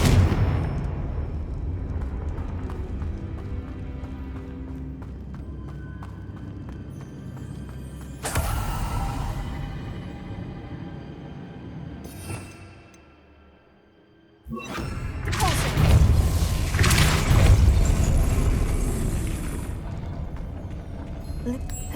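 Confringo fire-blast spells going off in Hogwarts Legacy: a rumbling stretch of impacts, a sharp blast near the middle, a short lull, then a louder burst of crackling explosions, with brief talk at times.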